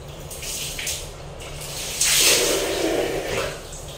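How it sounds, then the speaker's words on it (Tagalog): Heavy rain pours steadily during a storm, a continuous broadband wash that swells louder midway through, with no talking. "siguro may bagyo po ngayon guys. Kaya siguro napakalakas ng ulan."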